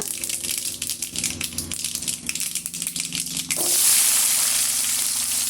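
About thirty shallots go into hot oil with mustard seeds for a village-style bitter gourd kuzhambu. A rattling, popping crackle comes first, then a loud, steady sizzle takes over and holds once they hit the pan.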